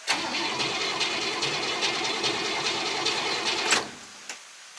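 A car engine with no choke, its gas pedal pumped a few times after two weeks of sitting, starts and runs loud and rough for about four seconds, then cuts out abruptly, followed by a faint thump.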